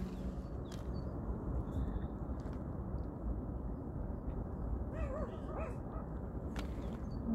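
A dog barks faintly in the distance, a few sparse yips heard over loud rushing water and wind noise outdoors near a stream.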